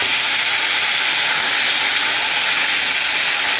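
Chopped vegetables with two or three green chillies hitting hot oil seasoned with nigella seeds, a loud, steady, dense sizzling hiss held throughout, with no talk over it.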